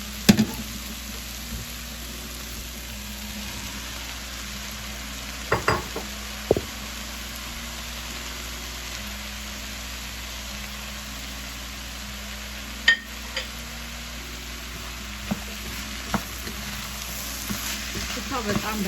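Garlic and chickpeas dropped into a frying pot for Ethiopian chickpea soup, a low steady sizzle with a few sharp knocks and clacks of a utensil against the pot, a voice speaking at times.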